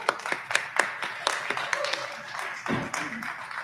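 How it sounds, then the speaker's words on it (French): Scattered clapping from an audience at a heritage awards evening, with distinct claps early that thin out as a voice talks over them. "on les applaudit."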